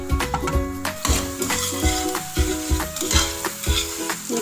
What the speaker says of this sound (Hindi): एक तरफ मैंने ये घी रखा था फ्राई पैन में सब्ज़ी को फ्राई करने के लिए।